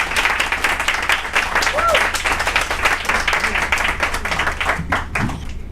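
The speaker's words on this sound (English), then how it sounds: "everybody give a nice warm round of applause for Nicole Fowler one more time" Applause and clapping from a live audience at an open-mic poetry and performance show, sustained and fairly loud for several seconds before tapering off, with voices mixed in.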